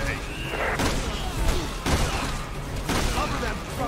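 Repeated bursts of gunfire and booming impacts from Resident Evil 6 during a helicopter fight, spaced irregularly under a busy, noisy mix with some voice.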